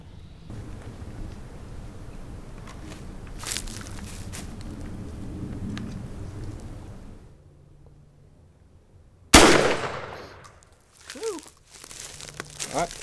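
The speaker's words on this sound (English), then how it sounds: "I'm gonna shoot out here closer to 60 yards. These 20 gauges, man, with this new TSS is nuts." A 20 gauge shotgun fires a TSS turkey load outdoors: one sharp, loud blast after a quiet pause, ringing out and decaying over a second or two, with faint rustling and background noise before and after.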